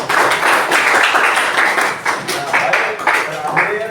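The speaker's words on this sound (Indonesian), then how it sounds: "Tepuk tangan dulu ya," Students clapping in a classroom during a lesson, a busy patter of many hands mixed with children's voices and chatter, fairly loud and close throughout.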